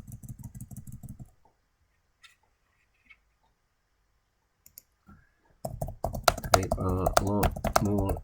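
Clicking computer keyboard keys, heard with a person talking at the start and again toward the end, and only sparse faint clicks in the quieter middle.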